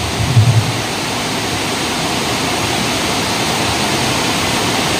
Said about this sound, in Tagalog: Kahiling ko kayo ang ulan